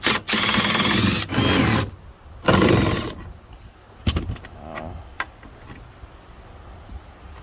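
Power tool spinning out the 10 mm tail light bolts on a Nissan 350Z, with loud whirring bursts around the first three seconds followed by quieter clicks and handling noises.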